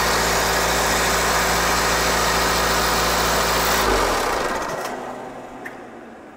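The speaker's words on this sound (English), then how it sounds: "As predicted, the engine stalled," A car engine with an intermittent fault, fuel pressure being tested, runs with a steady, loud, buzzing idle for several seconds, then falters and stalls, its noise dying away into a faint hum and a small click.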